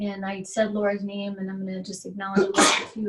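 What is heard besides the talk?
sneeze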